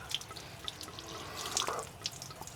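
Water runs from a new tap mixer in a Fiat Ducato Winnebago motorhome, a steady close splashing stream into the sink with small drips and gurgles.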